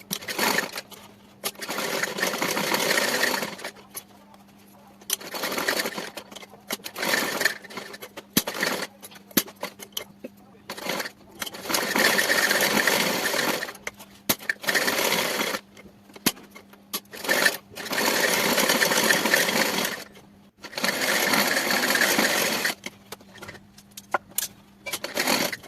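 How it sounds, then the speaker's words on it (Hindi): A sewing machine stitches a small cotton-filled quilt for a Laddu Gopal bedding set. It runs in steady, buzzing bursts of a few seconds each, separated by brief pauses, and stays close and clear throughout with no talking. "अब इसमें सही से नहीं है इसलिए इस पर सिलाई कर देंगे।"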